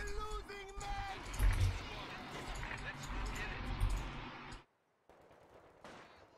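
Machine gun and rifle fire in a Company of Heroes 2 battle against German Ostheer forces, dense crackling bursts with heavy low thumps under someone talking, then a short silence and fainter shooting.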